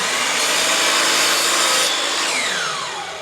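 A wooden pen blank being sawn to length, a steady, loud, close rasping cut that holds for about two seconds and then tapers off as the blade finishes, with no voices.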